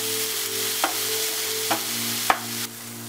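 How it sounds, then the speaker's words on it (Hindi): Finely chopped onion fries in a pan over a medium flame, a steady sizzle with three distinct stirring knocks spread across it and no talking. "साथ ही हम इसमें बारीक कटा हुआ प्याज मिला देंगे"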